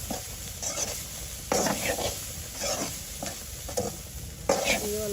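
Lentil-filled snacks fry in hot oil in a village kitchen in Hatiya, a steady sizzle broken by repeated scraping stirs and light clinks of a utensil against the pan, close and fairly quiet, with no talking.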